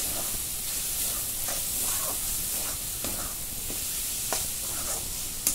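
Chili powder, turmeric, coriander powder and garam masala sautéing in a pan, a steady loud sizzle and hiss with soft periodic scrapes of a spatula stirring through it.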